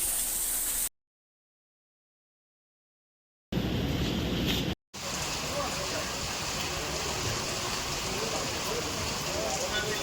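Steady rain pours down in a dense hiss over roads in Dabhoi, Gujarat, broken by a few seconds of complete silence near the start.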